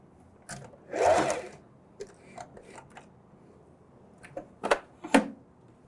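A sewing machine doing a reverse stitch on a dish towel gives one short whirring burst, followed by scattered faint clicks and brief mechanical knocks, quiet and close.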